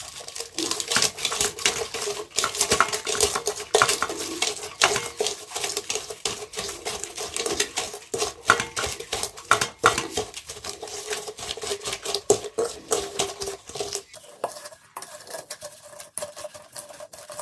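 Chilli, onion and salt crushed with a steel glass, rapid rhythmic tapping and grinding knocks up close, continuing steadily and easing slightly toward the end.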